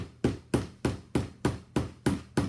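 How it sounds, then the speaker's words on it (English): A hammer tapping on a doll house craft piece: nine steady, evenly paced taps at a moderate, fairly soft level, close by with no talking. "And then with the hammer, get it in a way that you're gonna be able to tap it."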